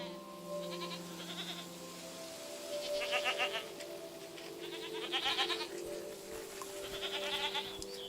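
Goats bleat in the game Sky, several high wavering calls in short bursts over a steady musical background, fairly close and moderately loud.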